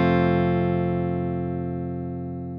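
An electric guitar sounds one strummed chord that rings on clean and sustained, slowly fading over a few seconds, heard alone without any talking.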